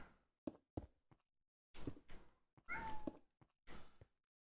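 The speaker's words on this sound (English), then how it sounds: "Probably hear my kitty cat in the background." A house cat meowing from a bedroom, several short plaintive meows spread over a few seconds, faint and somewhat distant, with a few soft thumps around them.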